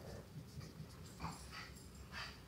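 A dog pants nearby in a home, with soft, quick breaths and snorts coming in short rhythmic bursts at low volume.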